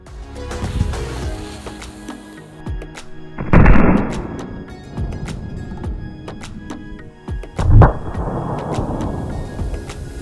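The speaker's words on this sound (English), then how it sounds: "We'll try to blow up the white car, put a firecracker in the back and see what's left of it." A firecracker set in the back of a white model car goes off in two loud, close booms a few seconds apart, each followed by a rumbling, debris-filled tail over a low background.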